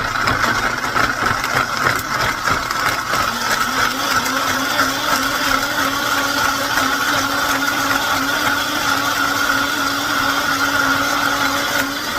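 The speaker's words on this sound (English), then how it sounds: "It's very noisy, so I will shut the video off for a moment" A blender runs loudly and continuously, blending cashew mayonnaise, a steady high-pitched motor whine with a churning rumble underneath.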